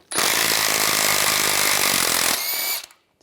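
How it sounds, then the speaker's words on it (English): A power impact wrench spins a 21 mm shackle bolt loose on a Chevrolet Silverado leaf spring, one loud, close, continuous rattling whir lasting about two seconds before it winds down and stops. "Use a 21 millimeter wrench on the bolt in a 21 millimeter socket."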